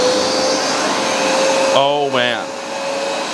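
A Hoover Smart Wash carpet cleaner runs with a steady, loud motor drone and high whine, close by, going over carpet that another machine missed; someone speaks briefly over it partway through.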